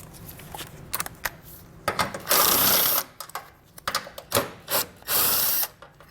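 A socket wrench and power tool work loose 13 mm bolts while a Roadmaster Direct-Connect base plate goes onto a 2022 vehicle: close, bursty whirring and ratcheting in several separate spurts with short pauses, loud and without talk.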